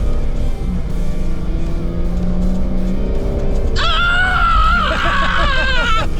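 An AEV off-road vehicle climbs over a sand dune crest in the Oregon dunes, its engine roaring loud and steady, then rising into a high, wavering whine like revving or spinning tires as it crests and drops over the top.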